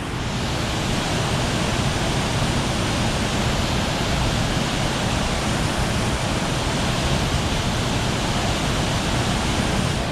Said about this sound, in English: We are down at the bottom of the Sturgeon River Gorge.